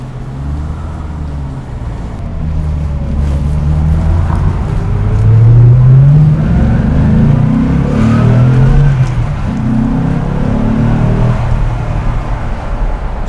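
A 1990 Chevrolet Corvette ZR1 with under 2,500 original miles, accelerating along a city street. Heard from inside the car, the engine drone rises through the gears with shifts in between, over steady road noise, and there is no talking.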